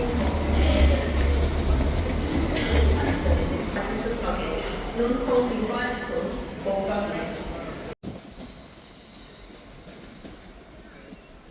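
Train noise at a railway station platform, a rumbling, clattering roll with people talking over it, then a quieter stretch after an abrupt cut.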